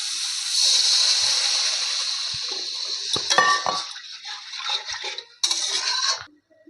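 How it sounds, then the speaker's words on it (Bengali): Water poured into a pan of fried spices for a fish curry, a loud hissing sizzle that fades, with clinks of utensil against the pan and a second burst of hiss before silence. "মশলাটা ভাজা হয়ে গেছে। এবার আমরা জল ঢেলে দেবো।"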